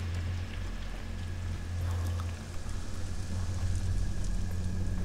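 Rain falling in the video game Pathologic 2, a steady soft hiss of drops with a low ambient hum underneath, fairly quiet and continuous.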